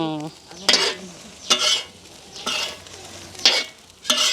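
Kottu roti chopped and tossed with a metal blade on a hot pan, giving sharp, evenly spaced clanks about once a second over a low sizzle, close and fairly loud, with a voice briefly at the start.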